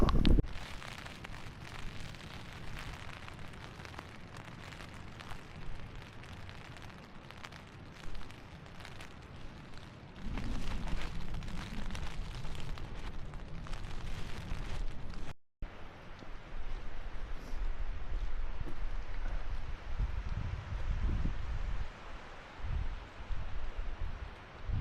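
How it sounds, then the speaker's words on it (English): Strong wind blowing around a tent at a campsite, a continuous loud rushing and buffeting roar with gusts swelling and fading, broken by a brief cut partway through. "You can see the wind's really picked up again."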